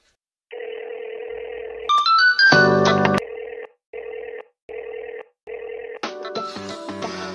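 A mobile phone rings with an incoming call at night: short bursts of a bright electronic ringtone repeat steadily, broken by a louder, busier melodic flourish, all close and with no voices.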